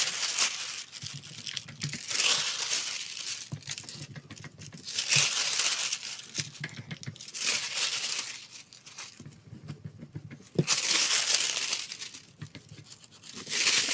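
Thin craft foil rubbed and shifted over glue-stick adhesive, giving close, continuous crinkling and papery rustling that swells and fades in repeated waves, with no voices.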